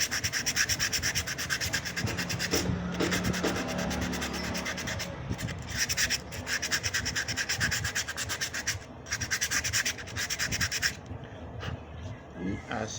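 Close, repeated rubbing strokes as a glazed motorcycle brake pad is sanded to remove its hardened surface, with steady back-and-forth scraping broken by short pauses.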